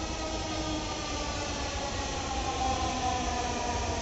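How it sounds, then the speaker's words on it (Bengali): Dhaka metro train pulling into a station on the Motijheel-bound side, a steady loud rumble and rail hum filling the platform with a rising swell near the end. "মেট্রো চলে আসছে, মতিঝিল সাইডে চলে আসছে।"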